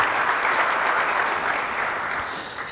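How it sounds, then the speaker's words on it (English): Audience applause fills a county economic outlook event, a steady, dense round of clapping that holds at an even level before easing slightly toward the end. "Can I get a round of applause for all of those workers"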